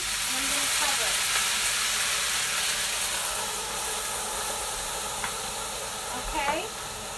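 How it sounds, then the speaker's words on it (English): Food sizzles and hisses steadily in a covered pan on medium heat after a little water is added to steam it, a continuous close frying-steam noise with faint clinks. "I'm going to put just a little water in it so it can steam, and I'm going to cover it"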